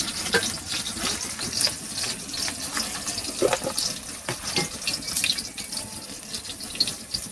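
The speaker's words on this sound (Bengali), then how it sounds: "কি রান্না করতেছে এখন? এই যে ভেন্ডি আলু আর মাছ দিয়ে যে ঝোল।" A home-cooked okra, potato and fish curry bubbles and sizzles in a pan, a steady close hiss with soft stirring scrapes and wet pops throughout, no voices.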